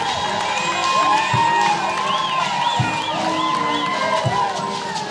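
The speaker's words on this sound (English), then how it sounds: "A clap for the VC." An audience at a university graduation and Vice Chancellor installation at Kaimosi Friends University cheers and claps loudly, with shrill whoops and high trilling calls rising over a dense, continuous crowd roar.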